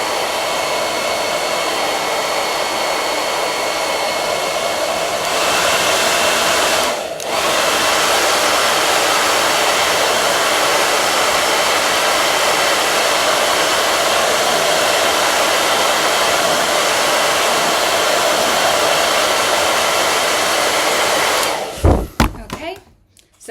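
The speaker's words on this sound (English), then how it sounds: "I'm gonna use a hairdryer just to hurry this up." A hair dryer blows steadily and loudly on wet paint on card, a constant broadband roar for about twenty seconds that cuts out with a few clunks at the end.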